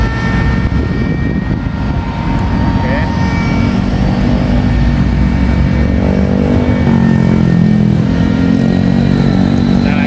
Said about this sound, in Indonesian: Menerbangkan pesawat RC itu tidak usah buru-buru nih